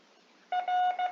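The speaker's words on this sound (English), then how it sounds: "Every time you hear the CW sound for the letter R" A clean Morse code (CW) tone sends the letter R, one short beep, one long beep and another short beep, crisp and alone after a brief near-silent pause.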